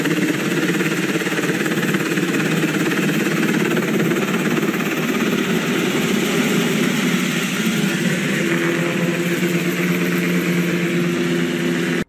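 A helicopter flies over a disaster area, a steady, loud, unbroken rotor and engine drone that holds throughout without any talking.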